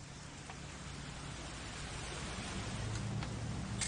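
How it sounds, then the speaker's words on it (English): Rain in the video game What Remains of Edith Finch, a steady, even hiss of falling rain that holds for several seconds without a break and swells slightly toward the end. "It's gonna rain the whole weekend, isn't it?"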